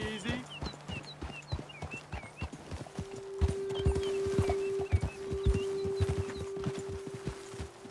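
Horses trot in Red Dead Redemption 2, hooves clip-clopping in a rapid, uneven rhythm close by, with a snort or whinny and a low voice briefly over the hoofbeats.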